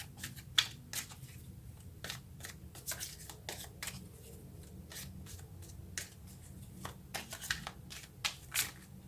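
Tarot cards being shuffled and drawn by hand, a close series of quick riffling flicks and soft slaps in irregular bursts, with faint low background noise and no speech.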